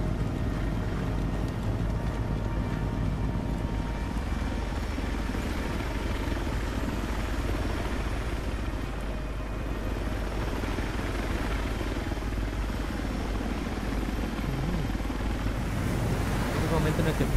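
Helicopter in the video game Battlefield 4: a steady, loud rotor and engine drone throughout, with a faint rhythmic thump and rushing wind-like noise, continuing without a break and swelling slightly near the end.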